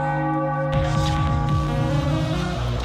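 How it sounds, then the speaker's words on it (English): A large bell rings out loudly and repeatedly with rich, sustained tones to celebrate a Philadelphia Phillies baseball win. No voices are heard over it. "Ring the bell."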